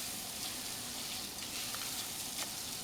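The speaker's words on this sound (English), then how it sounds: "I got the garlic, I want to fry it together with the rice" Garlic and rice frying together in a pan for risotto alla piemontese, a steady close sizzle with faint stirring scrapes throughout, no talking.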